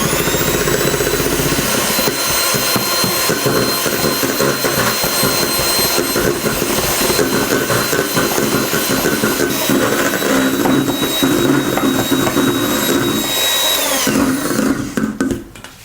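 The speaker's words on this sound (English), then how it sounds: "start beating the egg white using low speed" Electric hand mixer whipping egg whites in a bowl for a Japanese sponge cake, a loud, steady high-pitched motor whine with a whirring tone that runs throughout and cuts off at the end.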